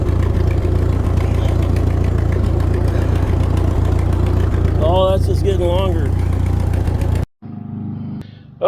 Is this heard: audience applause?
no